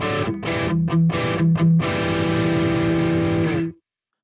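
Heavily distorted electric guitar, recorded direct through an amp simulator preset called I'm Dynamite, plays a quick riff of chugging notes, then a sustained ringing chord that cuts off abruptly.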